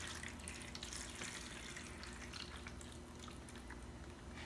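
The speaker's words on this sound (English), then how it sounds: "I take my existing nutrient solution that I've mixed for my adult plants, and I create a thin layer at the very bottom of the tray" Nutrient solution poured into the bottom of a tray for semi-hydroponic orchid seedlings, a steady continuous trickle of liquid at moderate volume with no talking.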